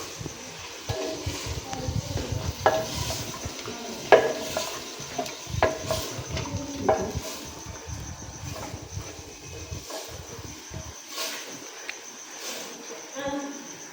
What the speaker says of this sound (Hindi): थोड़ी देर ये अभी भूनना है इसको।